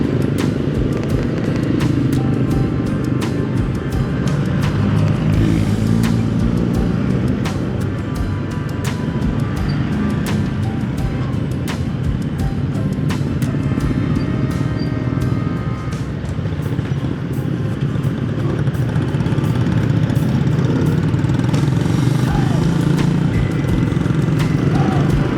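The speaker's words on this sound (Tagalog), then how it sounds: "Daming sasakyan, no?" Heavy street traffic in Kalasyaw during the Christmas season: motorcycles and cars pass in a continuous, loud engine drone with clattering, holding steady from start to end with no voices.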